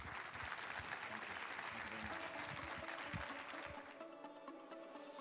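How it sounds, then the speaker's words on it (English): Sustained applause from an audience at a nonprofit event at a state capitol, dense clapping that fades slightly toward the end. "Can we give them a round of applause, please?"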